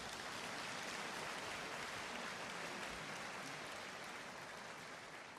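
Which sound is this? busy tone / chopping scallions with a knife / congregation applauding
congregation applauding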